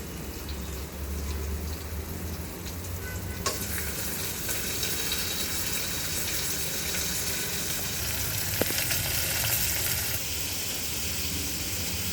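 Onions browning in a pan give a loud, steady frying hiss that swells after a few seconds, with an occasional clack of the spoon as they are mixed, close and continuous.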